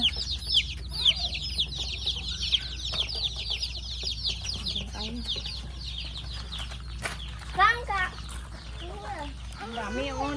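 Native chickens on a farm cluck and squawk in frequent short calls over a steady low hum, with voices talking nearby throughout.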